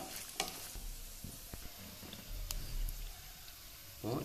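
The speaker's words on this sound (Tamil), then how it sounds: "சோம்பு போடுங்க, காஞ்ச மிளகாய், முந்திரி, இதெல்லாம் நல்லா வதக்கிக்கோங்க." Fennel seeds, dried chillies and cashews sautéing in hot oil for a spicy chicken pepper dry, a faint crackling sizzle with scattered pops and light stirring knocks.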